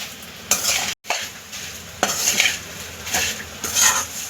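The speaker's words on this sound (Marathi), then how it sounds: "आणि आता हे पूर्ण मिश्रण आपण परतून घ्यायचे।" Poha chivda mixture stirred and roasted in a pan, with a spoon scraping and clinking against the metal in short bursts over a steady soft sizzle. No one talks.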